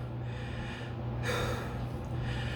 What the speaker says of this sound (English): That's why I'm breathing hard